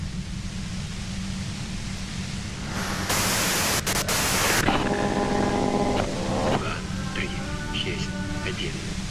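Radio white-noise static in the video game Disco Elysium, a steady broadband hiss throughout that swells louder for a stretch mid-clip, with tonal interference and game voices layered over it.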